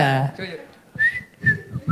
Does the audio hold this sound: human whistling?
yes